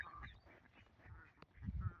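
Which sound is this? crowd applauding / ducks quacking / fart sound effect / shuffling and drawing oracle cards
ducks quacking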